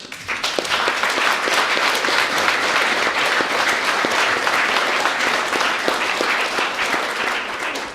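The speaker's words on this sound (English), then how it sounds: "I think they deserve a round of applause." Audience at a humanist congress in 2014 breaks into sustained applause, a dense, loud roll of clapping that holds steady for several seconds with sharp individual claps standing out.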